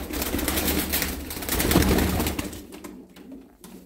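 Yellow Jumbo Lahore pigeons, a breeding pair with two young in a loft, coo steadily and fairly close, a dense continuous murmur that thins and fades out near the end.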